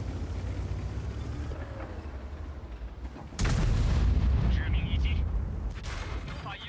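A heavy tank cannon shot in a tank video game bursts out loudly midway, after steady engine rumble, followed by a rolling boom that fades, while someone talks.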